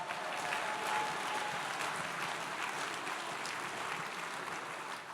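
A gala audience in St. Louis applauds at a fundraising event, a dense sustained clapping from a large crowd that holds steady and fades slightly at the end, no speech over it.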